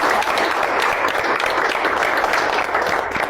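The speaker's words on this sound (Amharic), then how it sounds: "አጨብጭቡላት ለረዴት።" A group of children applaud a classmate during a Saturday afternoon quiz session, producing a steady, dense patter of clapping that stays even and close for a few seconds.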